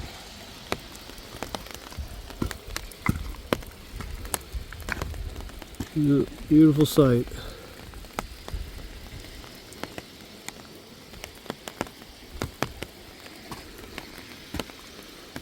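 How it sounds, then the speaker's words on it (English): Steady rain patters on surfaces at a ranch, with sharp scattered drips and drops striking close by throughout, while someone briefly speaks in the middle. "You can't see the mountains over there because it's raining so hard"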